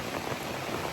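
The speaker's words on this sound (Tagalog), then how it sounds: "Yung ulan hindi pa nahinto," Heavy rain pours steadily on an afternoon in the Philippines, a dense, even hiss with no breaks, close and moderately loud, with no voices.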